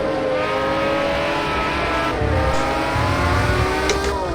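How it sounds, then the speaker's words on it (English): The 7-litre V12 of a 1988 Jaguar XJR-9 Le Mans race car wails close by, rising in pitch as it revs up, then dipping and climbing again with a rough, throaty edge. "That wonderful engine producing that fantastic engine note"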